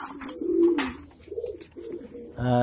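Pigeons at a bird market in Digambar Bazar, Habiganj, Sylhet, including King, Lakka and white Maltese breeds, give a few soft, close coos in short bursts, ending with a brief, brighter call.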